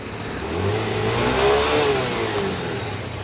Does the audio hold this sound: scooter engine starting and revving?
yes